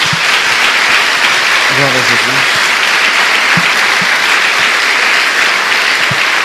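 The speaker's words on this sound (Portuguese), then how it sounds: "Dê uma salva de palmas ao Senhor." Continuous loud clapping from a large crowd at a religious worship service fills the whole stretch, with a voice briefly calling out partway through.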